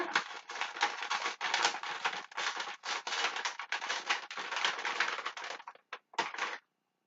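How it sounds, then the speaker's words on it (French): A paper envelope is opened carefully, producing a dense run of close crackling and tearing rustles that stop abruptly near the end, followed by a couple of brief paper sounds. "j'ouvre l'enveloppe en essayant de ne pas déchirer la citation."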